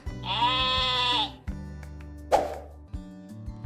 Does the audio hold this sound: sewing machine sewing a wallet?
no